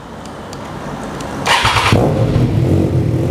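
A 2022 Triumph Trident 660 motorcycle fitted with a Yoshimura exhaust with a carbon tip starts up: a brief whirring crank, then the engine catches into a loud, close, rumbling idle.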